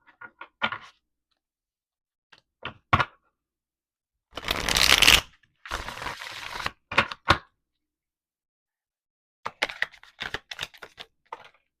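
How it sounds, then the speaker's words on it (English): Shuffling a deck of tarot-style reading cards, a dense riffle burst in the middle and shorter crisp card flicks and taps before and after, close and clear with quiet pauses between. "I'm gonna give this one good shuffle."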